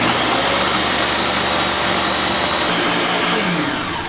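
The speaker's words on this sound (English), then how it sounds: "you wanna turn your blender down to low" A blender runs loud and steady while mixing dessert ingredients, a continuous whirring roar that eases off slightly at the end, with no talk.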